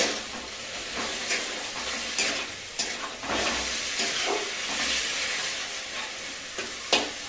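Garam masala paste frying with spices and potatoes for goat head curry, a steady close sizzle and hiss broken by spoon stirring and scraping, with no voices.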